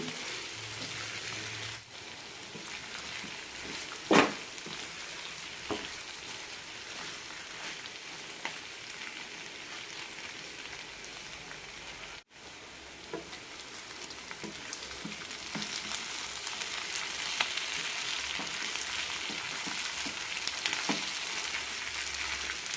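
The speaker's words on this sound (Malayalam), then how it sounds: "നല്ല ഫ്രൈ ആയി കിട്ടണം" Chicken for chicken chinthamani fries in a pan with a steady, moderate sizzle that holds throughout, broken by a couple of sharp knocks from the pan or utensil.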